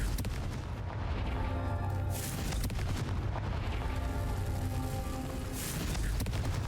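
Fiery Confringo spell blasts erupt in the Hogwarts Legacy wizarding game, several deep booming explosions recurring every second or two over a dense, constant roaring rumble.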